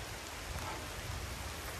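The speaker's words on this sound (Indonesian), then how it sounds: "Langsung disambut hujan." Rain falls steadily on a hilltop campsite in dense forest, a close, uniform wash of hiss and patter with no voices.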